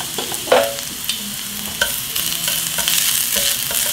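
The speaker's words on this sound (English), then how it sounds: "I'm going to drop some garlic down in there." Garlic sizzling in a little oil in a hot pan, a steady close frying hiss with occasional sharp crackles and pops throughout, and no talking.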